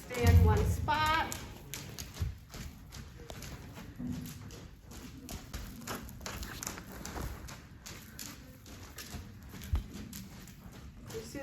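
A mature mare trots on the lunge around a small circle, hooves clip-clopping in a steady rhythm on the ground while a person talks over it throughout.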